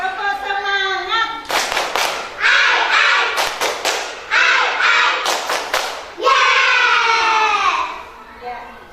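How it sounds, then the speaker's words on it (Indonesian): Children in a kindergarten class perform a rhythmic spirit clap, sharp bursts of hand claps in a patterned beat alternating with sung or chanted voices of the group and a teacher. "Tepuk semangat."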